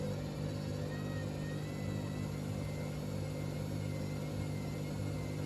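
A Hoover VisionTech VTS715D21X washing machine hums with a steady low motor drone and faint tonal whine as it works up to reattempt its spin, the sound even and unbroken for several seconds.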